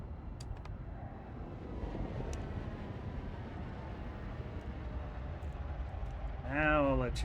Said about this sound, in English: I swear this vehicle sounds like a helicopter coming in.